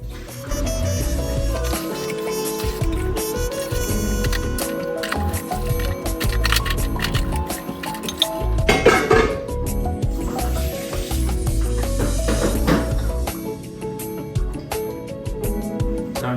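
Water running and sloshing as developed film is rinsed in a developing tank, a steady splashing flow with gurgles and a louder burst midway, close and fairly loud.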